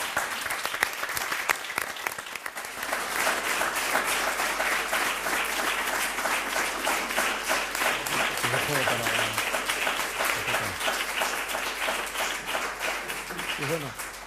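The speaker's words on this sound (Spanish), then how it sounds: "yo os pediría un aplauso para ellos" A crowd gives sustained applause for researchers at an evening science event, dense clapping steady and loud for the whole stretch, with some voices mixed in underneath.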